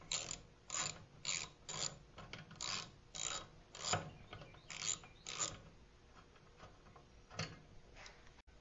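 A ratchet wrench loosening a 3/8 inch bolt on a small engine being taken apart, a run of close, crisp clicking bursts in an uneven rhythm with brief pauses, heard alone without talk.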